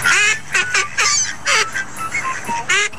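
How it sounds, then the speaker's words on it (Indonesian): A duck gives a run of raspy, rapid quacks that sound like hearty laughter, loud and close, coming in several bursts with short gaps between them. "Mungkin ia sedang melihat pemiliknya terjatuh, sehingga si bebek tertawa terbahak-bahak."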